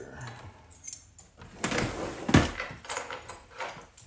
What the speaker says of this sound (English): Put these in the bucket of keys.